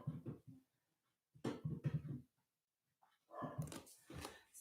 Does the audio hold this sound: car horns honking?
no